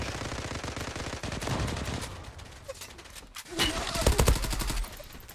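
Rapid automatic gunfire from the Zula online shooter, a dense stream of shots that swells louder toward the end, with a few separate bursts rattling near and loud.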